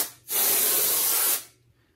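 An air blower puffs onto rifle scope optics in one close, loud burst of hissing air lasting about a second, then cuts off.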